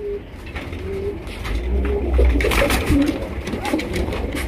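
Indian Kakji pigeons, a big-sized pair with bright red eyes, coo in low, soft repeated calls amid a busy background, with faint chirps and some voices nearby.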